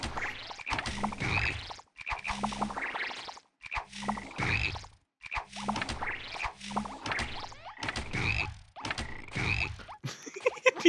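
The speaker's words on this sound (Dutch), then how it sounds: "die kikkers die tegen elkaar aanlopen, dat is echt wel het beste tot nu toe in die hele fucking game" Cartoonish frogs in the video game Battleblock Theater croak in about six evenly spaced bursts, each with a bumping thud as they collide with each other, loud and close with no talk.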